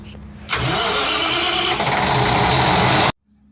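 A generator set engine is started from its AMF panel: after a moment of quiet it cranks and catches into a loud, steady close-up roar that shifts slightly midway, then stops abruptly, leaving near silence.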